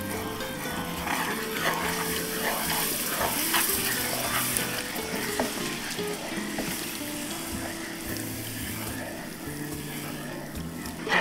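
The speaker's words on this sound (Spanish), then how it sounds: "Ya que se doró poquito, le vamos a echar 2 tazas de leche." Milk being poured into a lightly browned flour roux in a hot pan and mixed: steady frying hiss and bubbling with soft stirring scrapes throughout, fairly close, with no one talking.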